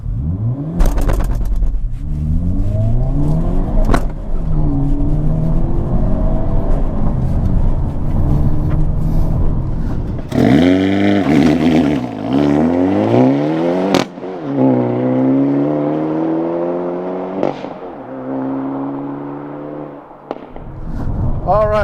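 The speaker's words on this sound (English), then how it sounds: "I'm gonna test the acceleration with the Elantra N." A 2022 Hyundai Elantra N with a manual gearbox launches using launch control, its engine climbing hard through several gears with sharp pitch drops at each shift and crackling exhaust pops between, loud and close throughout.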